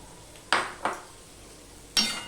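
Chopped tomato going into a pan of frying masala, heard as two quick clattering scrapes and then a third louder clatter, over a faint background sizzle.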